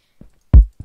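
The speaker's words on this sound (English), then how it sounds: "like a drum noise." Minecraft note block set on sandstone, giving a short percussive drum tone in-game; a faint soft tap is followed by two loud, punchy low thuds, alone with no talking.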